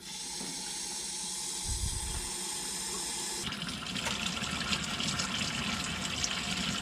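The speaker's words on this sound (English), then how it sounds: "Alright, we're starting to get water coming out." A water softener system's faucet sputters briefly, then water gushes out in a steady hissing stream, fairly close.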